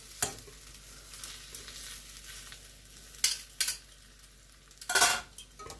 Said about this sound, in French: Et je mélange les nouilles.